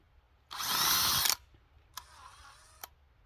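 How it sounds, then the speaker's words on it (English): A small auger drills holes in garden soil for planting allium bulbs, giving two gritty mechanical bursts: a loud, rough one of under a second, then a shorter, quieter grind after a pause, with no talking. "So I'm going to need to use the little auger for that too."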